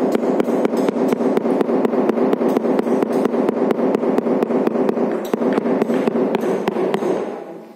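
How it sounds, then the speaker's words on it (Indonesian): Rubber mallet tapping granite floor tile into place on its sand bed, a fast steady run of sharp close knocks, dozens in a row, loud and continuous with no talk. "Usahakan menggunakan palu karet teman-teman, agar hasilnya bagus dan granitnya tidak pecah."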